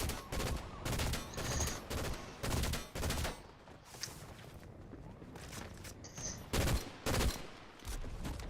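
Bursts of gunfire from a Fortnite match crack out in repeated clusters, loud and close, with quieter gaps between volleys and some footsteps in the lulls.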